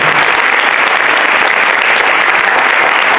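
A studio audience breaks into dense, sustained applause as a guest is welcomed, a loud steady wash of clapping with no voices over it.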